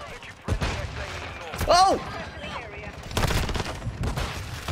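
Bursts of gunfire crack through a Call of Duty: Modern Warfare II multiplayer match, several sharp volleys in quick succession while a player shouts over them.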